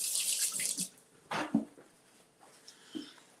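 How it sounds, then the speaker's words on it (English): Water runs from a kitchen tap while a tomato is rinsed under it, a hissing spray that stops and restarts with splashes and handling thumps, close and without talk. "I'm gonna rinse off the tomato"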